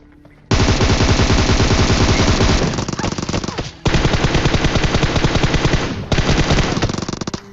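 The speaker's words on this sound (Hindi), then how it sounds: "लेकिन पीछे से सप्रेस उजी का फायर आता है" Suppressed UZI fire in a battle royale video game rattles out in three long, loud automatic bursts separated by brief pauses, with rapid, evenly spaced shots and no talk over them.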